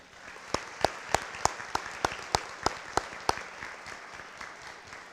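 A few seniors at a school honors night give a round of applause for their families, about a dozen sharp separate claps spaced under a second apart that fade into a softer patter, sparse and quiet in a large room.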